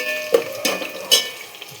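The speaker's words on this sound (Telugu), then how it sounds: "చూసారా ఇప్పుడు వేగుతున్నాయి కదా" Slit green chillies frying in a pan for a simple chicken biryani made with normal rice, with a soft sizzle and a few close clinks and scrapes from stirring in a short burst.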